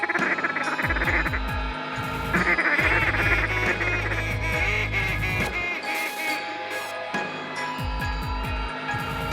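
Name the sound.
flock of ducks quacking near hunting blind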